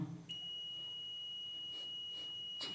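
Continuity buzzer on a multimeter sounding while the two probes touch the ends of an intact wire; a single sustained high tone running for over two seconds, close and clear, with a few faint clicks and no talk.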